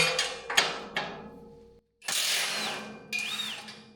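A power tool whirs in short bursts to back out a bolt on a square-tubing trailer frame being welded on a rotisserie, each run spinning up and trailing off, with a brief pause between pulls.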